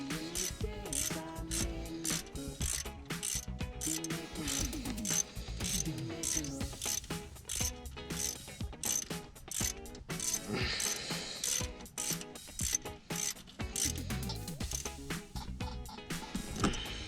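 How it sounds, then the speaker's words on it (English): A click-type torque wrench ratchets in quick, repeated mechanical clicks throughout, close and fairly quiet, while a Ford Fusion 3.5L V6's timing chain and alternator are being worked on. "Click type torque wrench."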